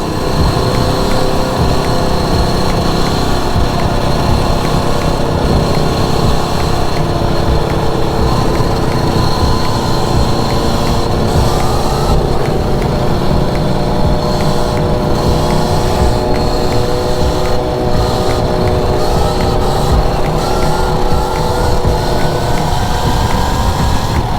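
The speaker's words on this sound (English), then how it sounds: "Let us enjoy the sound of screaming engines." Engines drone and whine nonstop, a loud high-pitched roar with rising revs, as though several motorbikes pass close by.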